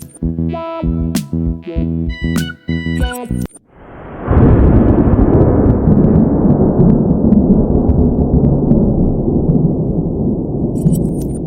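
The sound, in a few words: AI-generated stormy sky with lightning and thunder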